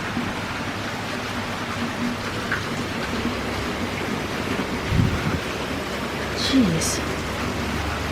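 Steady broadband rain pours down during Tropical Depression Imelda amid tornado warnings, a continuous hiss heard from a porch with brief low rumbles, while a person briefly exclaims.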